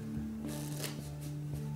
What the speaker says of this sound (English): Can you please shuffle the deck?